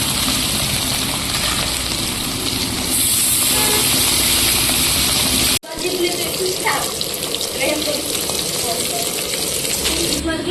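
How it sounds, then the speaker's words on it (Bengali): Hilsa fish frying in hot oil for a khichuri meal gives a loud, steady broadband hiss and sizzle that cuts out briefly partway, then resumes with faint clinks. "ইলিশ মাছগুলো এখন চলে যাবে তেলে"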